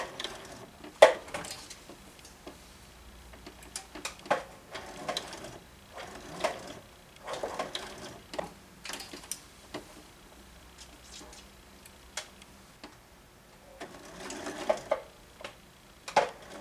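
A serger runs a seam on a T-shirt in short, uneven bursts of fast mechanical ticking and whirring, with quiet pauses between runs, close and faint.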